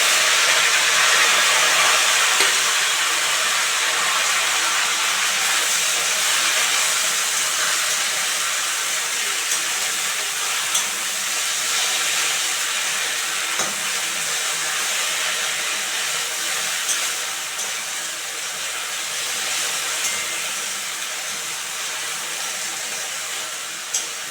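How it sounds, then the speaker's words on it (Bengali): Jute leaves hiss and sizzle in hot oil with lightly fried garlic and radhuni spice, a loud, steady broadband frying noise that fades slightly over time with no talk. "এখন পাট শাকগুলো দিয়ে দেবো"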